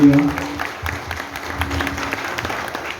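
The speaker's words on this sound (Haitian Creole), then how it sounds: "on applaudit le directeur" An audience at a community event applauds the director, a brief scatter of clapping mixed with crowd murmur and some voices.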